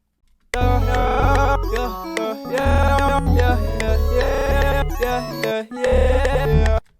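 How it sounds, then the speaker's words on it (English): A vocal passage chopped into stuttering, glitchy hyperpop-style fragments in FL Studio, with abrupt cuts and sudden gaps, loud and close. "then it'll cut it up for you and make it all glitchy"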